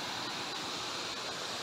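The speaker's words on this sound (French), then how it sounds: "Voilà la magnifique cascade de Shoroshine." Xorroxin waterfall near Erratzu in Spain roars as a steady, dense broadband rush of falling water, loud and continuous throughout with no voices over it.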